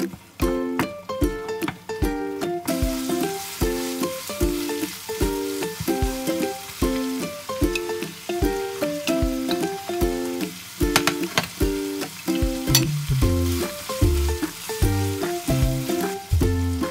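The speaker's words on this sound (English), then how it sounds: "Saute good the ground pork, allow to render fat, and reduce the liquid." Ground pork and raisins sauté in a pan, rendering fat with a continuous crackling sizzle, while a spatula clatters against the pan in steady, repeated strokes throughout.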